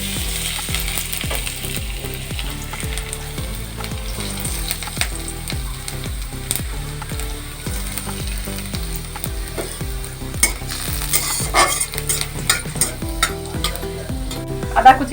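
Cumin seeds, chopped garlic, ginger and green chili fry in hot oil, crackling and sizzling steadily, with rhythmic clicking and scraping from stirring that grows sharper toward the end, with no speech.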